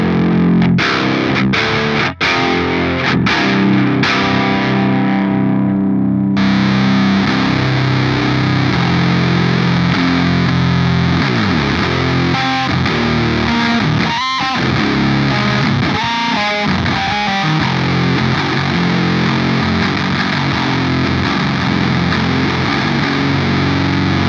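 Heavily distorted electric guitar tuned to drop F, played through an Earthquaker Devices Acapulco Gold fuzz pedal: a few sharp stabbed chords, then a sustained, saturated wall of riffing with chugging low notes, loud and alone for over twenty seconds.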